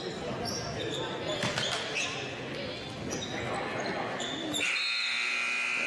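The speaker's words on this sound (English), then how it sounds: "Inbounds pass gets plucked away by Baglione as the buzzer sounds" A buzzer sounds to end the third quarter of a high school basketball game, a sustained tone starting near the end after bouncing balls, squeaks and crowd noise from the gym.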